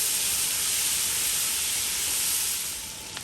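Green seasoning fries in hot oil with a loud, steady, broad sizzling hiss that eases slightly near the end.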